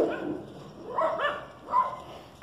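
Dogs bark and yip in a few short bursts nearby, heard in a home workshop where a Vespa PX 200 front wheel hub bearing is being serviced.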